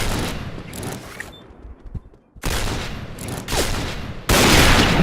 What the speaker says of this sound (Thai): มึงเล่นปืนกลเลยเล่า